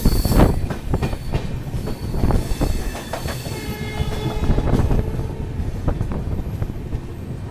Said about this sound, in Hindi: और फिलहाल अपना अराइवल हो रहा है अकोला जंक्शन रेलवे स्टेशन पे।